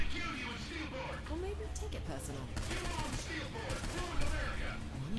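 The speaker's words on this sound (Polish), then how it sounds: "O, jakie ładne fajerwerki." Fireworks explode in the video game Saints Row IV as a rapid run of crackling, gunfire-like bursts, fairly loud and steady throughout, with someone talking over them.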